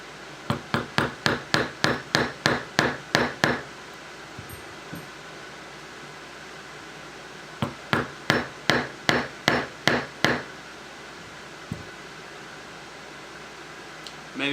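Small metal taps drive a firing pin into the bolt of a J C Higgins Series 30 .22 LR rifle: a quick run of about a dozen evenly spaced hammer taps, a pause, then a second run of about eight, close against a faint fan hiss.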